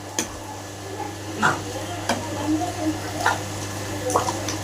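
Boiled chickpeas being stirred into sautéed potatoes in a pan, with repeated scraping and clinking strokes of a spoon against metal over a low steady sizzle and hum.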